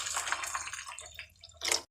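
Water poured into a pan of fried onion, green chillies and curry leaves for upma, a brief, fairly quiet splash and gurgle that fades, then a short final splash.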